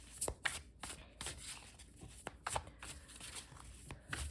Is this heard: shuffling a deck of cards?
yes